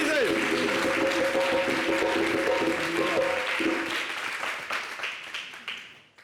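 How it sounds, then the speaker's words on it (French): Audience clapping for a performer on a summer holiday television show, a broad round of applause under talking and music that thins and fades toward the end. "On applaudit Isée."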